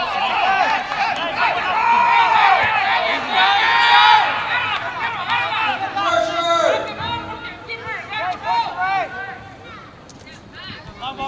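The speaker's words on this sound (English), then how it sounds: "Lively crowd here, cross pitch from our broadcast location." Lively crowd at a Yakima versus Skagit soccer match, a steady babble of chatter and hubbub rising and falling in the stands under a commentator's voice.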